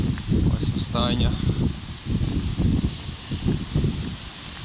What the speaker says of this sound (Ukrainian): Трошки вітряно сьогодні.